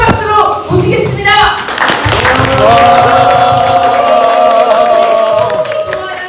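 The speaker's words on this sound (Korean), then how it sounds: "민주노총 울산지역본부 이철환 보훈부장님 힘찬 박수로 모시겠습니다" Applause and scattered clapping from union members at a Korean labor union leadership retreat as a speaker is introduced, with a prolonged tonal voice or sound running over the clapping.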